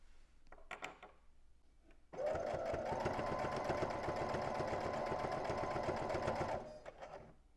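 Sewing machine stitching cloth reusable makeup remover pads, a few soft clicks and handling noises, then a steady rapid mechanical whir of stitching for several seconds before it slows and stops; close and quiet.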